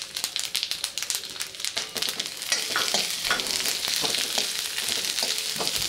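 Onion and sesame seeds fry in a pan for misal with a steady, close sizzle and crackle, accompanied by bursts of stirring in the first couple of seconds.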